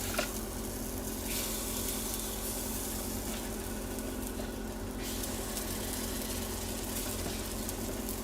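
Æbleskivers cook in a pan with a soft, steady sizzle and faint crackle of frying batter, quiet and continuous with occasional light scraping bursts.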